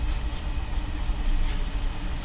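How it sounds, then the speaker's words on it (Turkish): A long TCDD ore freight train behind a DE 22057 diesel locomotive rolls past near Niğde, its loaded wagons making a close, continuous rumble and clatter with no voices. "Arkadaşlar bitmeyen vagonlar. Daha bitmeyen vagonlar."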